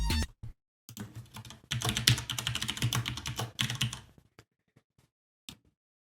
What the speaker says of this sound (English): You can see that as I type